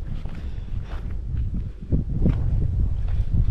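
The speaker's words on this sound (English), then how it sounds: "It's windy, isn't it?" Low, rumbling wind buffets the microphone in uneven gusts on a hike, growing stronger partway through, with some faint thumping movement underneath.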